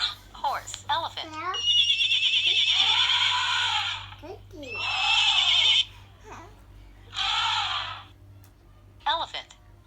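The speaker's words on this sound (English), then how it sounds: "Horse." Recorded horse neighing and whinnying played from an animal education app, several loud drawn-out whinnies separated by short pauses, with a voice babbling and laughing in between.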